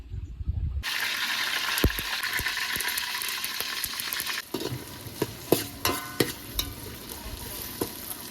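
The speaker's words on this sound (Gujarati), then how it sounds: "તેલ ગરમ થઈ ગયું પછી રાય જીરું ડુંગળી અને મરચું ટમેટું ને બટેકું હવે આને ઘડીક વાર હલાવી નાખીએ" Onion, chilli, tomato and potato stir in hot oil with mustard seeds, giving a loud steady sizzle, then a quieter fry broken by repeated spoon scrapes and clanks against the pan.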